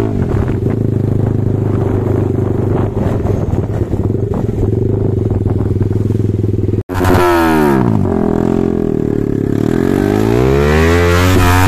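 A Yamaha R15 V3 motorcycle rides along a village road, its engine droning loudly and steadily, then revving up and climbing in pitch after a brief break.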